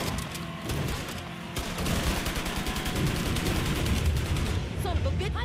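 Gunfire in the Mafia 3 video game, Faster, Baby! DLC, rapid bursts of automatic shots crackling continuously amid driving noise, with someone speaking over the action.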